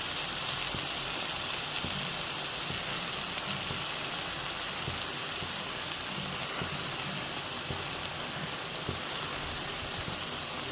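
Chicken pieces sautéing in hot oil for a mint chicken dish give a steady, dense sizzle that runs without a break, close and fairly loud, with no voices over it.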